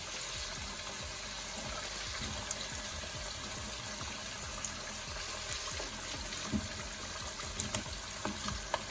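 Home fries sizzling in hot oil, a steady broadband crackle and hiss with scattered small pops, moderately close and without voices.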